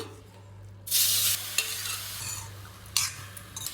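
Grated carrot stirred into hot ghee in a pan for carrot halwa, with bursts of loud sizzling and frying hiss around scraping stirs, near and close, no talk.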